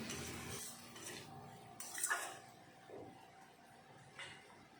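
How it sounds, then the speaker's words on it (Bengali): A utensil scrapes and clinks in a pan as fried onions are stirred into a duck egg curry, a few scattered scrapes and taps at moderate volume, with no talking. "এখন একটু সময় পেঁয়াজ ভাজাটা আমি ডিমের সাথে মিশিয়ে নেব"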